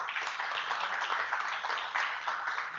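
Steady, dense applause from a conference audience at an ocean racing masterclass event, moderately loud and continuous for a few seconds with no talking over it.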